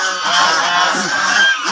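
King ducks calling in a loud, continuous honking chorus of overlapping nasal calls, close by and without any talk.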